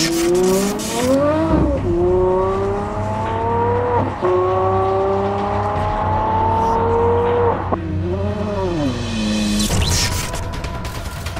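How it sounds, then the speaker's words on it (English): An Aston Martin One-77 engine pulls hard through several gears, loud and close, with a rising pitch on each long gear and brief dips at each shift, then a roaring burst near the end. "When you finally see the car moving, there's an amazing sound to the engine"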